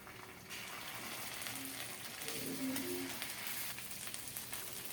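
Chopped onion frying in a pan with ginger and cumin paste, a faint, even sizzle with a few soft stirring sounds.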